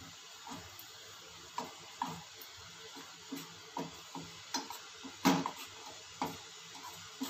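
Wheat flour for halwa is stirred steadily in a pan, giving a regular series of soft scraping strokes over a faint sizzle, close and fairly quiet with no talking.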